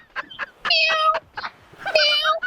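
A voice imitates a cat, with two drawn-out meows breaking into speech-like talk, close and fairly loud.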